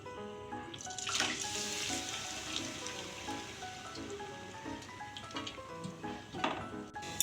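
Water poured into a pan of grated pineapple for Bengali-style pineapple chutney, a steady splashing trickle lasting several seconds, close and moderately loud, with no talk.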